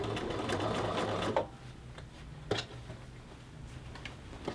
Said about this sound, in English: your shirt is going to be pushed through the sewing machine here in this armband